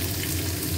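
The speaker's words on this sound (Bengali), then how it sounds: "ভালো করে আলুটা ভেজে নিলাম" Potatoes frying in a pan give a brief, steady, faint sizzle, a dense hiss with no talk over it.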